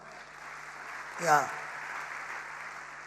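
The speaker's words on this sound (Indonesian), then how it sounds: "kasih tepuk tangan buat Tuhan" A church congregation applauds during an online worship sermon: a steady, even wash of clapping runs through the whole moment, with a single short spoken word rising briefly above it.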